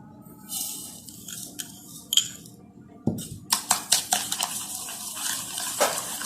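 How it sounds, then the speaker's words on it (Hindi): Sugar and egg are whisked in a bowl: a utensil clinks and scrapes against the bowl in a quick series of sharp metallic taps, close up and fairly loud after a quieter start with faint clatter. "सबसे पहले मैं चीनी और अंडा मिक्स करूंगी।"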